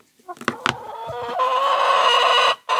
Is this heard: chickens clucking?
yes